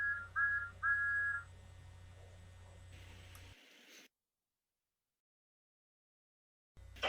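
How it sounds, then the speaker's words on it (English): A toy train engine gives two short, clear whistle toots in quick succession, followed by a quiet mechanical hum that cuts to silence. "Then the two engines, Isabel and Dolly, heard Thomas's whistle."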